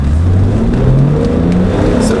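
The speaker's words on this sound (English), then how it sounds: "we'll do a couple red line pulls" Loud in-cabin engine of a 1993 BMW M5 Touring accelerating hard toward redline on a country road, the pitch climbing steadily in rising sweeps, close and continuous with no talk over it.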